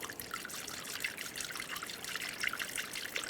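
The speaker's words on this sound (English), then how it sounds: "Using a funnel, you can add the appropriate coolant" Coolant pours through a funnel into the cooling system of a 2009-2013 BMW 328i xDrive with a 3.0L inline-six, during a water pump replacement, as a steady, close hissing trickle with no talking.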